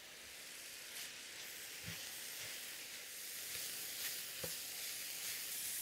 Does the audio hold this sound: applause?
no